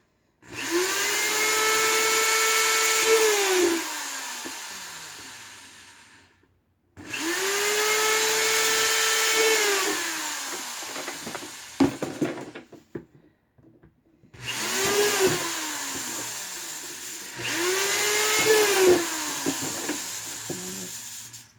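Power drill boring drainage holes in new and old plastic buckets: four separate whining runs of a few seconds each, each starting steady and dropping in pitch as the bit breaks through, with short clunks and pauses between.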